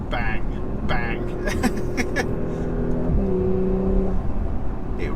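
A 2019 Porsche Macan S accelerating hard through its PDK dual-clutch gearbox, heard from the cabin: a loud, steady engine drone whose pitch climbs and then steps down sharply at quick gear changes, with a brief voice near the start.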